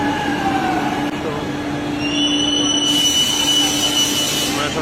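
A metro train at a metro station, heard as a loud, continuous hum with a sustained whining tone that shifts higher partway through, close by and steady throughout.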